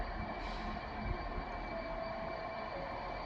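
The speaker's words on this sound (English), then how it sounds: "And then off goes the northern service to Manchester Piccadilly." Northern train departing Crewe station for Manchester Piccadilly, a steady low rumble of wheels and engine with a faint high whine, heard alone at moderate distance.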